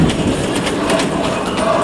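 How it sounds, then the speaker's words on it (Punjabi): A children's ride-on toy train runs at a trade fair in Mohali with a steady rolling rumble and faint rhythmic clatter, close by and continuous. "ਇਹ ਟ੍ਰੇਨ ਹੈ ਬੱਚਿਆਂ ਵਾਲੀ ਟ੍ਰੇਨ"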